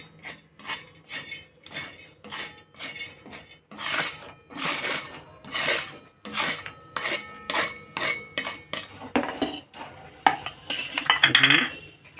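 Whole spices being dry-roasted in a pan for homemade garam masala, a series of rhythmic scraping and rattling strokes as a utensil stirs them against the metal, close and moderately loud in repeated bursts.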